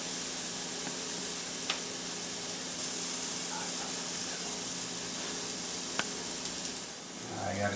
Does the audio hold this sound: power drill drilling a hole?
no